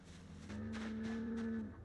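A single long, low moo from a cow in a video game farmyard, heard fairly clearly with no other sounds over it.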